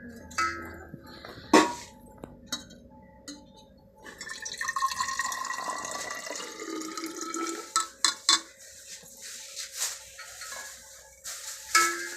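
Salt water is poured into a container, giving soft trickling and gurgling with scattered clinks and splashes, quiet and close, without any talking.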